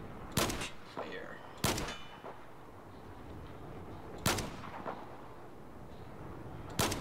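Booming gunfire in the video game Battlefield 4: four heavy, distant-sounding shots spaced a couple of seconds apart, each with a rolling echo tail, over a low ambient rumble.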